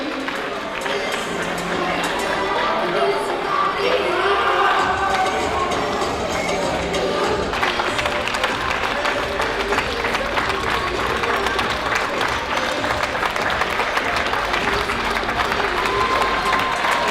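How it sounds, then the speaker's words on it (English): A crowd in a basketball arena in France applauds and cheers a player introduced before a game, a sustained dense roar of clapping with voices mixed in and an announcer speaking over it early on. "On peut l'applaudir très fort."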